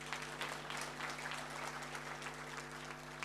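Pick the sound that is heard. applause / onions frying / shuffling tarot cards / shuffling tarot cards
applause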